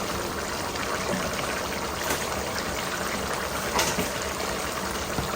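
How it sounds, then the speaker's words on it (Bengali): Hot water poured into a pot of simmering pumpkin curry with boal fish, a steady close trickling and bubbling stream of liquid with faint clinks and no talking. "গরম গরম পানি ডালি দিলাম"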